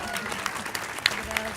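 An audience applauds at a Paris commemoration of the liberation by La Nueve, 9th company of the 2nd Armored Division, with dense close clapping and a few sharper claps over a brief stretch.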